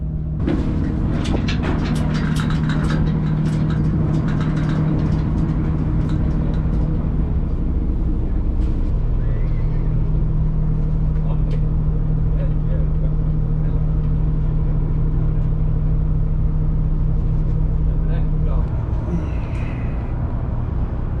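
A large boat's steady low engine drone with a constant hum throughout, a pitch shift partway, faint voices and clatter in the background, in the northern Faroe Islands.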